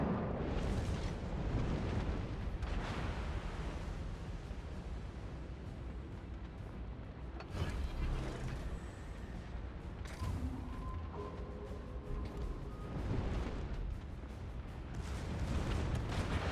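Secondary guns fire from a warship in World of Warships, a dense, continuous rumble of booms and blasts with repeated sharper cracks throughout.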